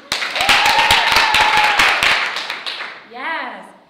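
Audience at a high school thespian troupe's theatre awards banquet claps loudly in a dense burst of sharp hand claps, then fades out, followed by a brief whistling or squeaky tone near the end.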